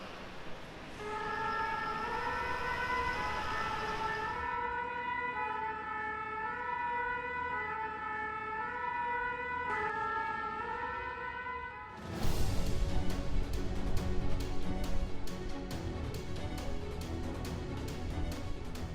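Sirens from Bastogne fire and ambulance vehicles wail in steady two-tone cycles, fairly near and clear, then give way to a louder burst of engine roar and rumbling traffic noise.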